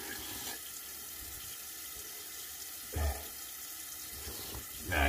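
A tap runs into a sink as a shaving brush is rinsed, a soft steady water hiss with two louder splashing bursts, heard close with no talking.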